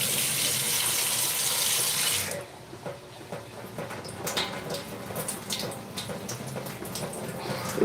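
Green chickpeas are washed under a running kitchen tap: water gushes loudly at first, then splashes and trickles as the peas are stirred and rinsed in a sink.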